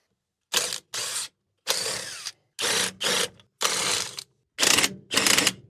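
Bolts being undone on the lead-acid batteries of an EZGO Workhorse golf cart, heard as eight close, loud ratcheting bursts of about half a second each, separated by short silences.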